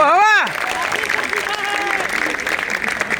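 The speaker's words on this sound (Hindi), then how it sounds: "तालियां बजाओ अपने लिए" An audience at a spoken-word event breaks into sustained applause right after a brief voice at the start, with the clapping filling the room at a steady level until the end.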